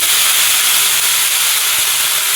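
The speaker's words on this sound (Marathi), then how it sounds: "त्यात आता आपल्याला मेथीची भाजी टाकून घ्यायची आहे" Fenugreek leaves hit fried garlic in a hot pan, giving a loud, steady hiss of steam and sizzle that fills the whole moment without pause, close up and with no talking.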